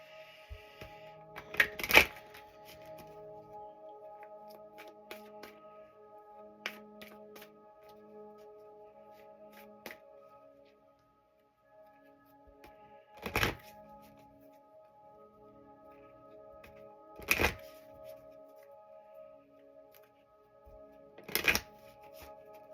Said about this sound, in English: So bear with me while I shuffle.